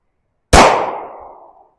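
A single sharp gunshot with a metallic clang off a steel target during target transition practice, loud and close, with a ringing tail that fades over about a second.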